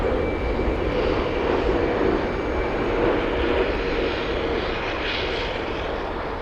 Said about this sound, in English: Another 747 for you guys.